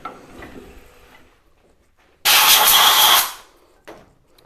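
A drill bores into a hard mesquite wood bowl at a lathe, giving a single loud whirring burst of about a second that stops sharply, framed by quiet workshop rustling and a short knock afterward.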